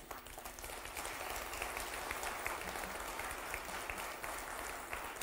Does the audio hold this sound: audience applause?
yes